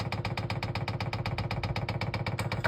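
A diesel heater starts up with a steady, rapid pulsing mechanical beat, like an engine idling, close and fairly loud with no voices.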